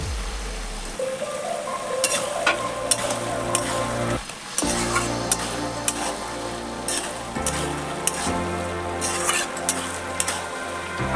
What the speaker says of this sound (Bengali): এবার চিংড়ি মাছটা দিয়ে দেবো